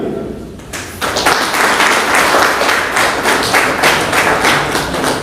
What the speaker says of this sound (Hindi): तो ये गांव वाले भी अपने लिए एक बार तालियां।